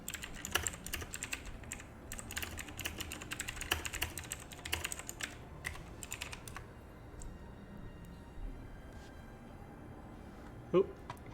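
Rapid, quiet keyboard typing clatters during a semi-pro esports match broadcast, dense for several seconds and then thinning to sparse taps, with a commentator talking over it.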